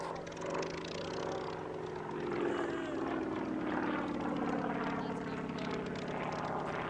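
A Nanchang CJ-6 propeller trainer flies at the Duxford airshow, its piston engine a steady buzzing drone with a wavering pitch as it passes, carried evenly at moderate distance the whole time.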